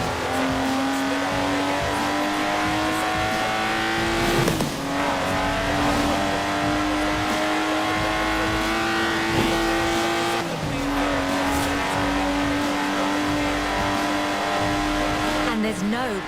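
A Lotus Exige sports car's engine in Forza Horizon 4 revs and holds a loud, steady drone, with two quick shifts or dips before it climbs again. A voice talks over the engine noise.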